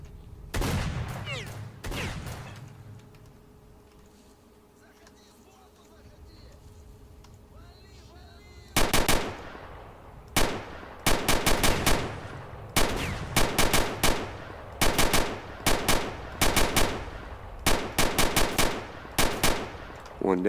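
Gunfire in the video game STALKER: Shadow of Chernobyl, a few shots early then a long stretch of rapid, repeated loud bursts of automatic fire after a quieter interval with ambient game sound.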